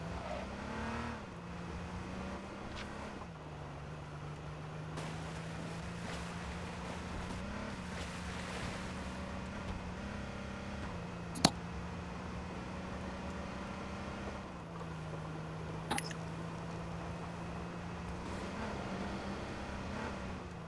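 A car in the H1Z1 video game drives with a steady engine drone that rises and dips as it shifts, with a couple of sharp clicks and no talk.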